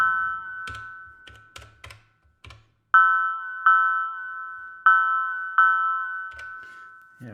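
Bell-like tones from a hacked Elektron Machinedrum running unofficial X firmware: after a few soft clicks and thumps, four loud, bright metallic chimes ring out at an even pace, each decaying, then a few clicks follow.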